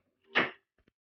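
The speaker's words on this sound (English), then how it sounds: "First thing you want to do, obviously, open the door." The rear door of an Infiniti G37 is opened: a single short, fairly loud rushing thud of the latch and door swing, followed by two faint, quick clicks.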